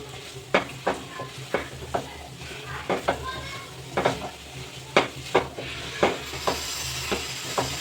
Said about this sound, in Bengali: দিয়ে দেবো চাট মশলা অল্প দিয়ে এবার এটা মিশিয়ে নেব